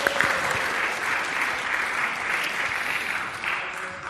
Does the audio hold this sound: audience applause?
yes